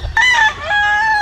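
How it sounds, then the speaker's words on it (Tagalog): A rooster at a game farm gives one close, loud crow lasting just over a second, with no voices alongside. "Mga manok po dyan sa loob."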